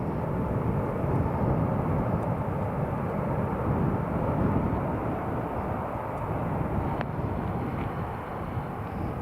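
A steady, loud jet engine roar from an EasyJet airliner fills the air at Newcastle International Airport, a broad rumble that holds without a break throughout.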